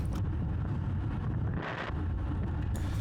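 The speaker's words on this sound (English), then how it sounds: "The wind was a bit odd tonight." Wind during an evening bicycle crit race, a rough low rumble of gusts buffeting the microphone continuously, with a brief airy swell midway and no voices.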